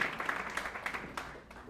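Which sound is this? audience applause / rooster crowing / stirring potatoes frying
audience applause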